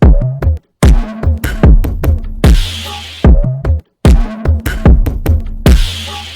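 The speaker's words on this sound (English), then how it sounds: "Altogether, these drums sound like this." A punchy hip hop drum loop with a deep, fat kick, sharp snares and hi-hats, loud and up front, repeating the pattern twice with brief gaps.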